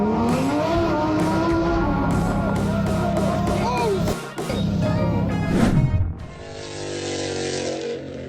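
A supercar does a burnout with a loud, close engine roar and rising tire squeal, then a sharp skid as the revs fall away. A narrator talks over it.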